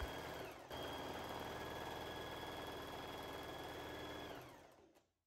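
Sewing machine stitching along the folded edge of a skirt hem, running in one steady continuous whir for several seconds after a brief pause, then winding down and stopping.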